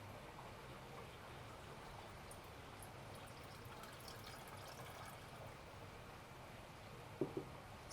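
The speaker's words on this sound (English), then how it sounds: "So I filled water in, and you see the percentage, it grows" Water poured into a glass vessel during a pharmaceutical level-sensor demonstration: a faint, steady watery stream that runs continuously and ends with a couple of soft knocks.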